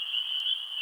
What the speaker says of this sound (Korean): 어둑어둑해진 숲길 사이로 요란한 개구리의 울음소리가 들려왔지요.